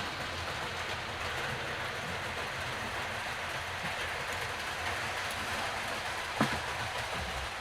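Model train hauled by a class 55 diesel locomotive running on a layout, a steady low rumble with faint rhythmic wheel clatter, moderate and even throughout, with one brief click near the end.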